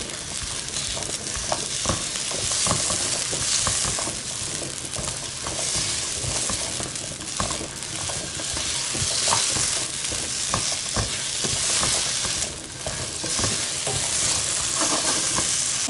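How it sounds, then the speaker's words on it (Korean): Potatoes stir-fried in butter over high heat, giving a loud, continuous sizzle with frequent scraping and tapping of a spatula in the pan, close and unbroken by speech. "버터 넣으시고 감자 센 불에 조금 오래 볶아주셔야 돼요."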